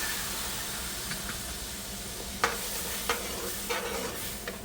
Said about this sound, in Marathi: त्याच्यात आपण दूध टाकून घेऊ जे आपण घेतलेलं आहे